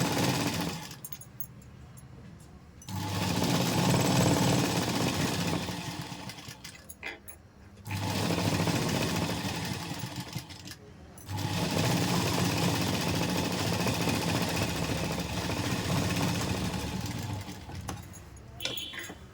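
Sewing machine stitching piping onto a sleeve, running in long continuous whirring bursts with brief pauses between them, close by and fairly quiet.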